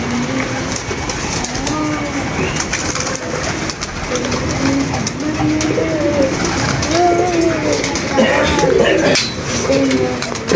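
Many pigeons in a loft coo steadily and overlap, with low throaty calls rolling on continuously, close and loud over a constant background rumble.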